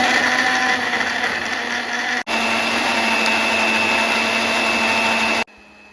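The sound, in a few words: blender puréeing onion, garlic, egg and milk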